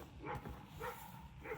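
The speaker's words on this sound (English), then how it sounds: "oh, my other neighbor's dog is joining the barking." A neighbor's dog barking at a Central Texas homestead, three spaced woofs at moderate distance, faint against outdoor background noise.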